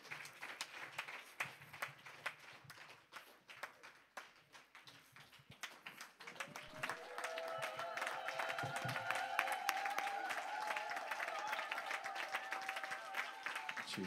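A church congregation at a live service in Montréal claps together in worship, rapid dense applause that swells around the room, with a sustained musical tone and voices joining under the clapping.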